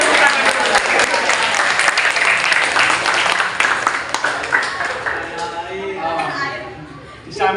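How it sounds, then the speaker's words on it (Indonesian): An audience at a Ministry of Finance teaching event in Indonesia breaks into loud, dense applause that continues for several seconds, with crowd chatter and voices mixed in before it fades toward the end. "Tepuk tangan tuh, tepuk tangan."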